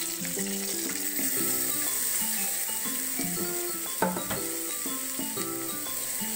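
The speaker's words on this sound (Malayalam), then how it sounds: "ചൂടായാൽ നമുക്ക് ഈ ഉള്ളി മുറിച്ചത് സവാള മുറിച്ചത് ഇട്ട് കൊടുക്കാം" Chopped onions hitting hot oil make a continuous moderate sizzle, with a brief clatter of a utensil midway. Melodic background music plays over it throughout.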